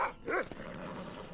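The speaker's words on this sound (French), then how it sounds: "Bon, il s'avère que c'est un chien." A dog in Red Dead Redemption gives a short yelping bark or two, close and fairly faint, followed by a low whimpering tail.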